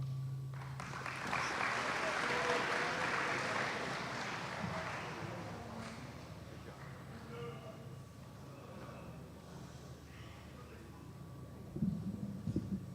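An audience applauding after a speech at an American Legion Boys' State gathering in New York: a broad wash of clapping that swells early, then fades into crowd murmur and room noise.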